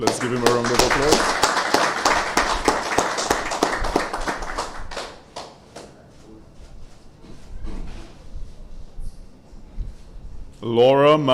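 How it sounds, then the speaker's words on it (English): At an award ceremony for an agricultural land bank project, an audience claps in a burst of applause that fades into scattered claps, with a speaker's voice before and after. "let's give him a round of applause"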